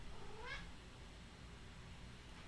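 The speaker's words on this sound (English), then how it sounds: "oh, my cat is here." A house cat lets out a single short meow, a quick rising-and-falling cry heard faintly against a quiet indoor background.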